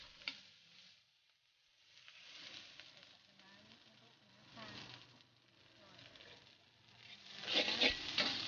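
At a Thai street food stall, steamed jasmine rice is tossed and stir-fried for fried rice, giving soft scraping, sizzling and pattering that swell at the end, with someone talking over the cooking.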